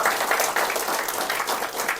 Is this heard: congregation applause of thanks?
yes